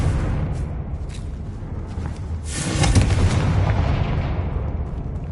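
A Confringo blasting spell goes off in the video game Hogwarts Legacy, a dense rumbling burst that swells around the middle and lingers as a broad, roaring explosion tail over steady background noise.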